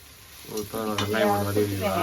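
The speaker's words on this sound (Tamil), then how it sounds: "சாம்பார் வெங்காயம் போட்டு வதக்கிட்டு இருக்கேன்." Small sambar onions (shallots) sizzling and being stirred in a hot pan, a steady crackling fry with scraping of a spoon, close by and moderately loud.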